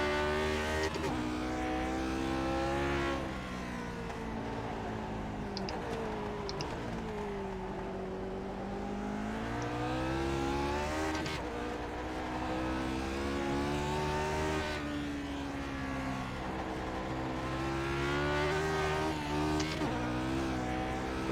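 A Lotus 49 Grand Prix race car at Bathurst in iRacing: a continuous, loud, high-revving engine rising and falling through gear changes and corners for the whole stretch, with no talk.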